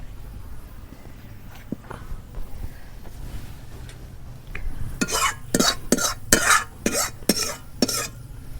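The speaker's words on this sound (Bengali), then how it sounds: "তো আমি এখন ডালগুলো বাগার দেবো" Dal being tempered with spices in a pan for a village-style Bengali meal: a series of sharp clatters and scraping stirs in quick succession, loud and close, after a quieter stretch of faint kitchen noise.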